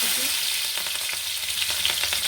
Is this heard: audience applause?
no